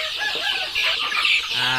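Young native Thai backyard chickens about two to three months old, cheeping and clucking softly together in a steady chorus, fairly close, with no talk over them.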